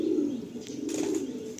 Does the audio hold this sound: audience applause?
no